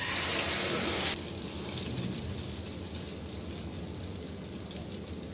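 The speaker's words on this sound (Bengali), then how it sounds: "তেল গরম হয়ে গেছে এবার ডিমটা দিয়ে দেবো" An egg drops into hot mustard oil in a pan, giving a loud burst of crackling for about a second that settles into a softer, steady sizzle.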